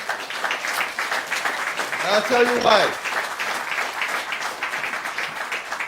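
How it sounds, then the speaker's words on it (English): Applause from an audience honouring teachers at a learning centre opening in Guyana, a broad continuous patter of clapping with someone speaking over it midway. "I want us to really give them a big round of applause"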